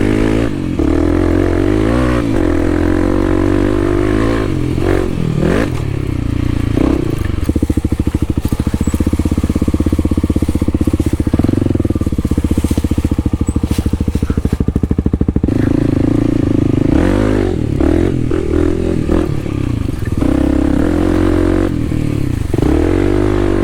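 A KLX300 and a DRZ400 dirt bike ride a bumpy trail, engines droning loud and close with repeated revving surges, rattles and scrapes over rough ground.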